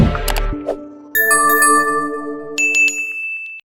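A bright notification bell chime for a subscribe reminder, several clear ringing tones in a rising sequence, loud and close, each note sustaining briefly with no talk.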